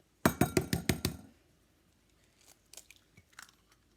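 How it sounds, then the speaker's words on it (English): Two eggs cracked while cooking a meal: a quick series of about six sharp crunchy taps close up, followed by faint light clinks and shell rustles, with no talk. "So now just gonna crack 2 eggs."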